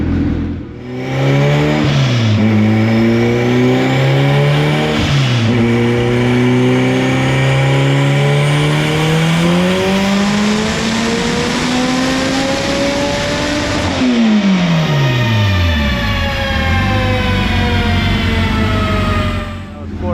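An AWD Acura Integra engine revs hard on a track pass, climbing steadily in pitch for about twelve seconds, then a sharp drop as it shifts or lifts, before holding a lower steady drone; loud and close throughout.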